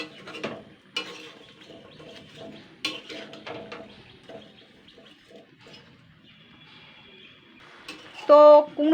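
Pumpkin greens stirred in a pan with chilli powder and sugar, giving scattered light scraping and clinks of a utensil against the pan, mostly quiet, with a brief louder metallic clatter near the end.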